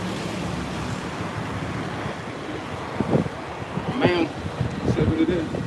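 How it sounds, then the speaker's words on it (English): Outdoors in Kigali, Rwanda, steady wind buffets the microphone with a constant low roar, while faint voices break through in the second half. "It's a lot of wind going on, so it might be windy"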